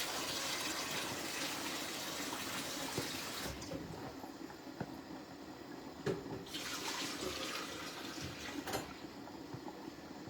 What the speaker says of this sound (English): It's time for me to add in more water. It's soup, so I have to add in more water.